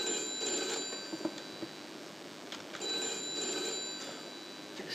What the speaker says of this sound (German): Ich muss ans Telefon.